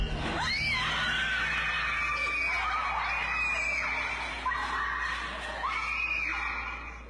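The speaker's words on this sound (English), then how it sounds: "Screaming ensues as the teens flee the scene." Several teens scream in panic, long wavering high shrieks rising and falling in overlapping waves, loud and close, as they flee a room where chairs start moving on their own.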